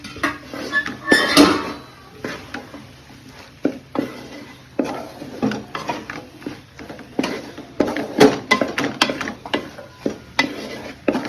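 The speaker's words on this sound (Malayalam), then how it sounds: "സോയ ഇട്ടു നമ്മൾ നല്ലോണം ഇളക്കി കൊടുക്കും." Masala-coated soya chunks stirred in a pot for a diet biryani, with a spoon scraping and clinking against the metal in irregular bursts, close and fairly loud, and a faint sizzle underneath.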